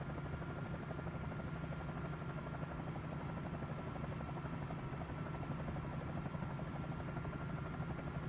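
A Huey helicopter passes by in Microsoft Flight Simulator 2024, giving a steady, droning rotor and engine hum that holds an even level throughout with no one talking.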